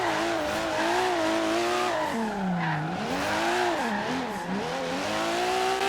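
A Toyota Supra MK3 drifts around a car park in second gear in the video game Forza Horizon 3, its engine droning loudly and continuously, pitch wavering up and down with throttle, under steady tire squeal.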